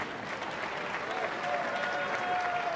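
A boxing arena crowd applauding a Hungarian fighter, a sustained wash of clapping filling the hall, with a voice over the public address running beneath it.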